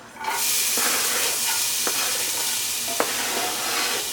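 Ginger, garlic, serrano and jalapeno drop into a hot pan for a vegan lentil curry, setting off a sudden loud sizzle that holds steady throughout, with a few faint stirring scrapes and clicks.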